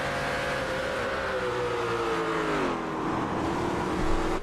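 An HPD GT3 race car in a sim racing game at Silverstone holds full throttle, its engine a loud, steady drone whose pitch slowly falls, heard alone without talk.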